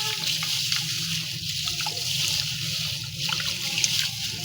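Raw beef washed under running tap water, a steady close splashing flow with trickles and the occasional slosh, no voices over it.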